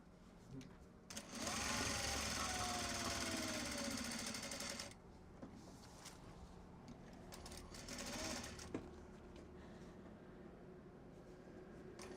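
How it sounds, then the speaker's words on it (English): A sewing machine top-stitches a small box bag in two rapid, buzzing bursts, the first long and the second shorter, with quiet room sound between them. "Do the top stitching."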